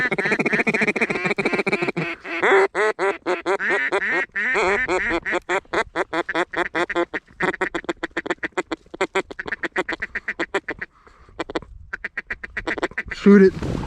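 Mallard ducks on a duck hunt give loud, rapid, repeated quacks close by, a dense run of calls that continues for most of the stretch with brief pauses.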